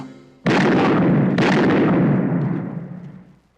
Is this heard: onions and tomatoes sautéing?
no